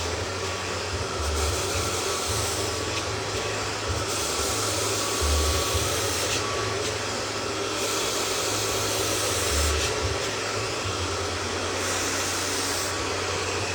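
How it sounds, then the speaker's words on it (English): Hair dryer blow drying long layered hair in a salon, a steady loud whooshing hum that runs unbroken throughout with slight swells in airflow, no voices. "Thorough blow drying is a must in the artistry of hairdressing."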